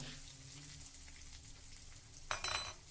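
Coconut pieces and shallots frying in ghee, giving a soft, steady sizzle with faint crackles, then a brief sharper burst of spitting near the end.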